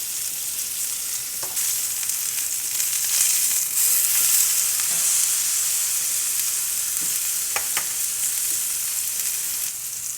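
Beef fillet sears in a hot pan for a Beef Wellington, a steady loud sizzle with a few sharp pops and crackles, alone with no voices.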